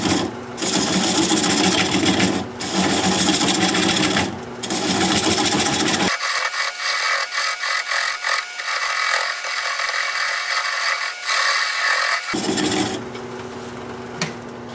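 A wood lathe spins an oak burl at about 400 RPM, producing a steady motor whir with scraping cuts from a turning gouge. The low rumble drops away briefly in the middle.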